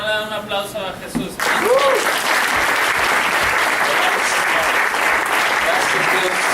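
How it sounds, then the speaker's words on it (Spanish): Church congregation breaks into sustained, loud applause that fills the space steadily after a brief opening moment of voice, clapping continuing evenly to the end. "¿Por qué no le dan un aplauso a Jesús?"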